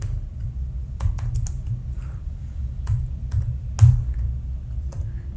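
A computer keyboard is typed on during a C programming tutorial: a few scattered, sharp keystrokes and short bursts of clicks sound close and clear over a low steady hum, with no talk.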